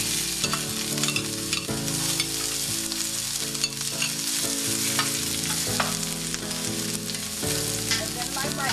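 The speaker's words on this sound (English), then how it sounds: "the first thing we're going to do is saute the onions and the mushrooms" A steady sizzle of onions frying in vegetable oil in a hot pan, with occasional stirring scrapes and clinks throughout.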